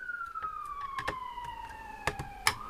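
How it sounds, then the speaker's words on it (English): A police or ambulance siren passes outside, its tone sliding slowly downward as it goes by, fairly clear at mid distance with a few sharp knocks and clicks nearby indoors. "I don't hear police sirens out here very often, or ambulance, or whatever it was"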